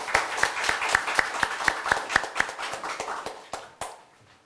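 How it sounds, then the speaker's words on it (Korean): An audience at a Korea University seminar on biodefense strategy claps to welcome a speaker: a run of sharp, evenly spaced claps that thins out and fades by the end. "큰 박수로 환영해 주시기 바랍니다."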